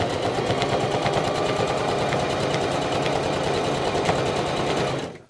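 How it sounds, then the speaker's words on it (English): A sewing machine stitches through the side of a bag with a fast, steady mechanical rattle and a faint repetitive popping. It runs loud and close without pause before stopping abruptly at the end. "if you listen to how it sounds, it does sound a bit weird when you're sewing this"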